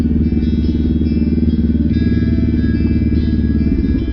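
Kawasaki Ninja 500 SE big bike riding over rough off-road ground in the province, a steady, loud, close engine drone with light clatter running through it.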